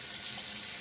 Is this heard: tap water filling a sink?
yes